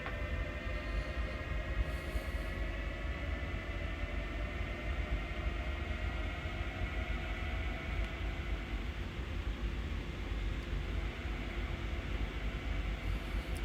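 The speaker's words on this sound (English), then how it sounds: "Oh, you missed that train, did you, B9 bot?" Rapid transit train running in a simulator, a steady loud rumble of wheels and motors with faint whining tones, continuous throughout with no voices.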